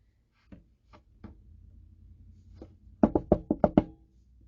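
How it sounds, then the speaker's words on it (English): A hand knocks on a door: a few sparse, soft raps, then a quick, louder series of six sharp knocks close by, with no talking. "you actually knocked with your hand and not your ruler"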